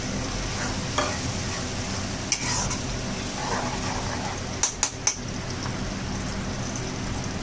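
Ground tomatoes for aloo matar paneer hit a hot pan and sizzle steadily, with a few sharp clinks of a spoon stirring against the metal.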